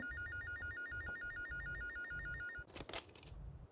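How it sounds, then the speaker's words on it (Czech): A telephone rings in the video game Gray Matter: a loud, steady electronic trill repeats for about two and a half seconds over a low rhythmic background, then cuts off into a brief clatter. "Zvoní telefon."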